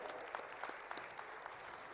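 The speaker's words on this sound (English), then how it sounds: "let us welcome him with a huge round of applause" An indoor audience applauds at the inauguration of BioAsia 2026 at Hitex in Hyderabad, giving steady, fairly faint clapping with scattered sharper claps throughout.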